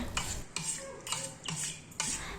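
Jaggery stirred into cooked raw mango pulp for panha: four steady scraping strokes of a spoon around a pot, evenly spaced and close, with no voices.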